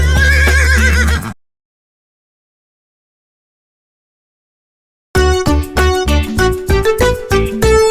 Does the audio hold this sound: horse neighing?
yes